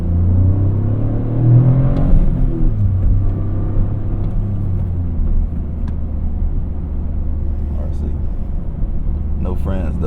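A Toyota GR Corolla with a manual gearbox pulling away on its first drive: a low engine rumble that rises and falls as the gears shift, heard steadily from inside the cabin with a voice talking over it.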